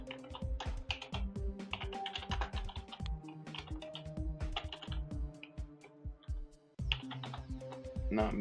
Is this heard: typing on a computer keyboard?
yes